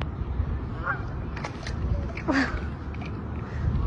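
A duck honks in short bursts, twice, close by, over a steady background hum and faint household noise.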